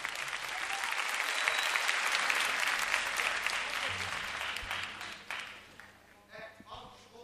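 Studio audience on a Turkish TV talk show applauds to welcome a band, a broad steady wash of clapping that gradually fades toward the end.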